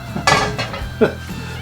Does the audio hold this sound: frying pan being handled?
yes